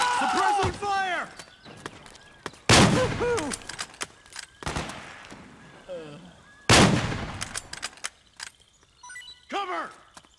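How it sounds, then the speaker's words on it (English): Gunfire from Metal Gear Solid 4 rings out in loud, sharp bursts separated by pauses, mixed with shouted voices and clattering combat noise. "Suppressing fire!"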